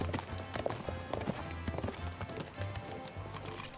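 Horses lope along a dude ranch trail, their hooves making quick, rhythmic clip-clop beats close by that carry on steadily with no pause.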